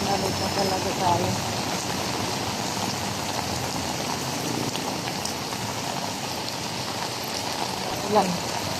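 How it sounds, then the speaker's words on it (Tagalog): Steady rain patters and hisses continuously across surfaces, a dense even wash of drops with a faint brief sound near the end. "Ulan."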